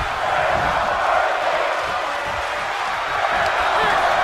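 Dense, steady crowd noise from a video game wrestling arena in WWE 2K22, a broad roaring chant sustained at even loudness throughout with no distinct breaks.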